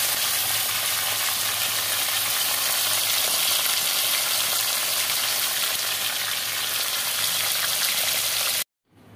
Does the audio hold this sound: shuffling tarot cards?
no